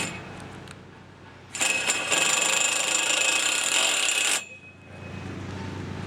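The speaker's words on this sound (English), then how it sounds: "I'm going to use the Tek screw and put it in" A power driver whines steadily for about three seconds as a Tek screw is driven into a purlin bracket on a hoop house frame, loud and close, bracketed by quieter handling noise and faint ticks.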